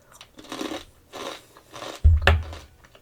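A single sharp crunch, like a bite into crisp food, follows a few soft murmured voices, then quiet chewing noise trails off.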